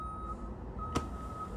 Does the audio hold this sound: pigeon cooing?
no